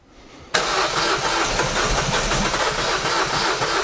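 A Ford Focus RS engine cranks and catches abruptly, then settles into a loud, steady, close-up idle with a rough, throaty rumble.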